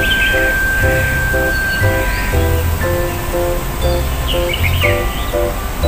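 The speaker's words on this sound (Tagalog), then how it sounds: "Gandang pakinggan ng mga ibon." Birds chirp and call in short bursts over a steady outdoor hiss, with a rhythmic low thumping underneath, in the Chinese Garden of Kowloon Park, Hong Kong; no one speaks.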